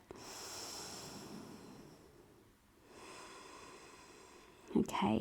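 Slow, deep breathing from a yoga practitioner during a hip-opening flow, a long airy exhale fading to near silence, then another breath and a brief sharp nasal snort-like sound at the end.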